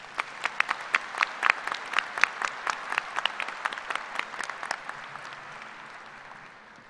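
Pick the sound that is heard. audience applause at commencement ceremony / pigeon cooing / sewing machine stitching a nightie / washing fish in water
audience applause at commencement ceremony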